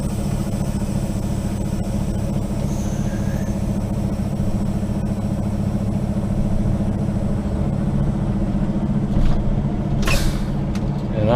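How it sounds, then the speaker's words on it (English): A truck's diesel engine idles steadily and loudly in the cab, with a sharp burst of hissing air near the end as the air brakes are set and the system recharges. "Parking brake. Put some air back in there."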